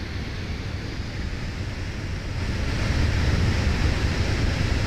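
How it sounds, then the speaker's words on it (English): Steady wind noise in the Fenix A320 flight simulator game during an approach, a broad, constant rushing that grows slightly louder partway through, with no talking. "Definitely some burble effect there, just some wind effect."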